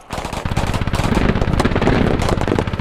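Rapid automatic gunfire in the Squad military shooter, fired at friendly troops, comes as dense loud bursts of shots, close and sustained for several seconds.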